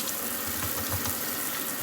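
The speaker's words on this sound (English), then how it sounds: "Now, let's turn on the water and use some soap and wash my hands." Tap water running steadily into a sink for hand washing, a continuous close hiss and splash with no talking over it.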